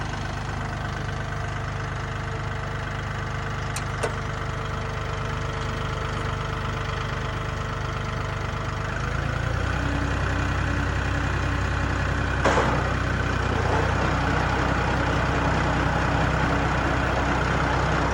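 Massey Ferguson 1835E compact tractor engine idling steadily nearby, a low, even diesel drone that grows slightly louder and fuller partway through, as if load or throttle rises, with a brief sharp tick near the start and no talk.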